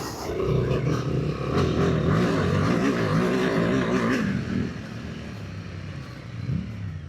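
A big Yamaha Tenere adventure motorcycle comes up from behind during an enduro race, its engine a loud, steady throaty drone that swells and then fades away, with no talk.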